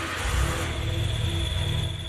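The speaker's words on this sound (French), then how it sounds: "C'est un bruit de moteur qui fait plaisir à entendre." Renault 4L car engine running steadily, a continuous low rumble with a constant higher whine on top, close and fairly loud, with no speech over it.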